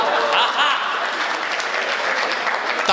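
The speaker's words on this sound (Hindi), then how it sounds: "तालियां जल्दी बजा दी" Audience at a Hindi comic poetry performance breaks into applause, a full, steady burst of clapping with some laughter and a voice talking over it near the end.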